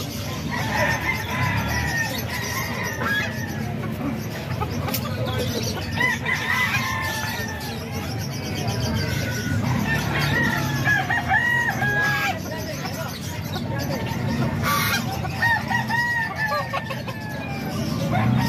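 Two Tornido hatch roosters crow and cluck continuously up close, with repeated crows rising over steady clucking and a busy outdoor background, and someone speaking briefly now and then.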